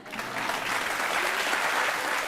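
Studio audience at a televised talk show breaks into steady applause, a full, even wash of many hands clapping for a couple of seconds at moderate volume.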